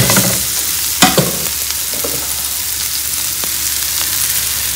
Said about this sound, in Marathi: बघू शकता असा ठेचा झालेला आहे. आता थोडासा फ्राय करून घेऊ.